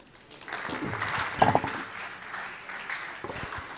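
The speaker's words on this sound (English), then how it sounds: "Let's give Prof. Another round of applause." Audience applause in a hall at a 2023 career fair, a soft, steady wash of many hands clapping that swells to a fuller patch midway and then thins, heard at a moderate distance with no talk over it.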